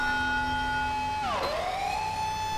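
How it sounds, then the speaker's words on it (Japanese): An emergency vehicle siren in GTA5 wails loud and close in a steady electronic tone, then sweeps sharply down and back up into a new rising pattern partway through, with no voices over it. "このサイレンめっちゃかっこいいよね。"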